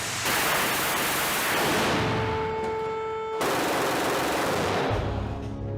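Cannon of a Su-30SM aircraft firing live rounds: a dense roaring burst of rapid fire that cuts off abruptly, followed by a second loud burst, with no talking.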